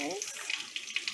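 Water runs from a kitchen sink tap in a steady hiss with splashy bursts, apparently with a pet bird called Kiwi bathing under it, while people talk nearby.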